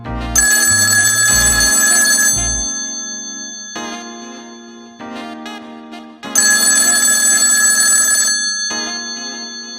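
A landline telephone rings loudly after a call is dialed, two long trilling bursts of ringing separated by a pause, with fainter ring tones trailing between them and no voices.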